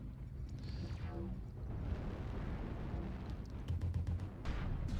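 Heavy weapons fire from a Warhammer-6R battle mech in MechWarrior Online, a deep rumbling boom that swells and rolls under a continuous low engine drone, with a few sharper cracks near the end.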